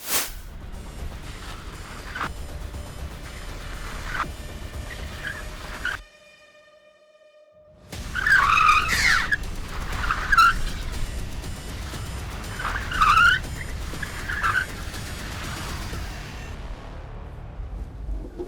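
A small motor whirs as a Citroën Ami electric car drifts, tires squealing and skidding in repeated bursts, with a short silent gap partway through.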